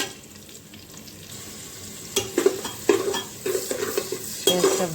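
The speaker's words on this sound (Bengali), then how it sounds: "পেঁয়াজটা ভালো করে লাল করে ভেজে নেব।" Chopped onions fry in hot oil with dried red chillies and whole cumin while a utensil stirs and scrapes the pan, giving a steady soft sizzle broken by several sharp metallic clinks.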